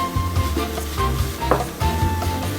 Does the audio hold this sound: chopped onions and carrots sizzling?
yes